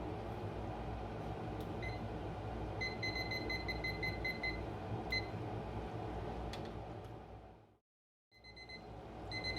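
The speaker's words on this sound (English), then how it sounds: "My timer has gone off and we're ready." A kitchen timer goes off while red meat sauce cooks, giving faint repeating high beeps over a steady kitchen hum that briefly cuts out near the end.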